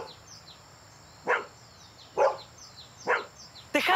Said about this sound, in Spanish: ¡Deja de ladrar, hermano!